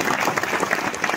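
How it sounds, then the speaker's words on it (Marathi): An audience at a kirtan gathering claps in a dense, steady round of applause, loud and continuous throughout. "नियोजन करत्यांकरता बरं का टाळ्या वाजवल्या पाहिजे फार सुंदर नियोजन।"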